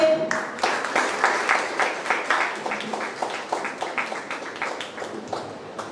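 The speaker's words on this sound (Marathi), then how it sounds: "टाळ्या होते" Rhythmic, fairly close clapping at a student felicitation program, a small group beating out steady repeated claps that gradually soften toward the end.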